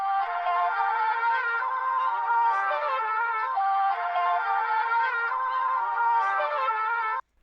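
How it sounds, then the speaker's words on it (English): Sustained vocal chop sample from a Cymatics vocal kit for dark R&B, a bright, steady sung tone with slight pitch shifts holding for about seven seconds, alone and fairly loud before ending abruptly. "So this one I got out of a Cymatics vocal kit"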